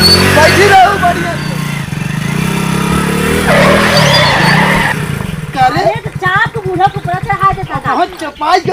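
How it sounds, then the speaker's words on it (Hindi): Loud vehicle with tires skidding and squealing, a sustained screeching roar at the start, then people talking over it. "कम से कम गाड़ी का आवाज सुन के हरिया"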